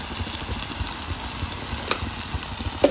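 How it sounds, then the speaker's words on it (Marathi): Chili powder, turmeric, masala and salt frying in a pan as they are mixed, a steady close sizzle with small scraping ticks and a couple of knocks at the end. "हे सर्व मिक्स करून घेते"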